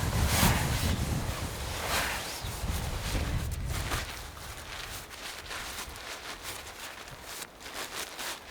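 Steady gusty wind blows across the microphone on a breezy Saimaa lakeshore near Sulkava Linnavuori, a continuous rushing roar with buffeting surges and no voices.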